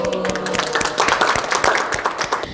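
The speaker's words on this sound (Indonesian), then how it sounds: "Tepuk tangan." Audience applause after a micro-teaching session at a tourism polytechnic, a dense crowd of hand claps held steady for a few seconds at moderate volume, with no voice over it.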